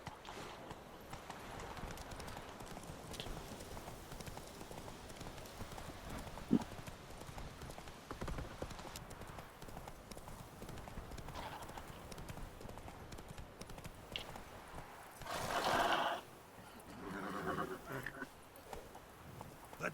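Hooves of a horse clip-clop at a steady pace in the video game The Witcher 3, moderately close, with a few rustles and a louder breathy snort near the end.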